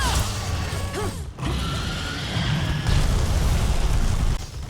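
Zoh Sia in Monster Hunter Wilds rears up before a fire attack, giving a loud, dense mechanical rumbling roar with creaking, grinding texture and a brief dip midway, sustained and close with no talk.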